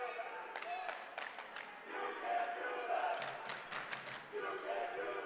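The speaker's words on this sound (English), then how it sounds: "You can hear the Tufts crowd really starting to rile up" Tufts basketball fans in Cousins Gymnasium shout and cheer at a women's NCAA game, with a loud crowd roar under a commentator's voice and squeaking sneakers on the court.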